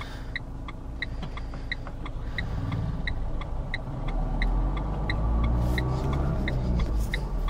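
A car engine accelerating in first gear while driving through the streets of eastern Paris, a steady rising rumble with a regular ticking indicator over it and no talking.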